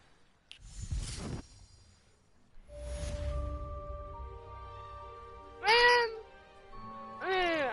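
A cat meows twice at close range, each call a clear rising-and-falling whine, with a short gap between them; a stretch of other background sound comes before the meows.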